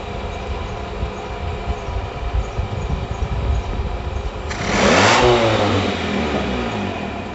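A Mazda 1300 carbureted engine idles with a rough, steady drone, then is revved hard partway through into a louder roaring surge that holds before easing slightly.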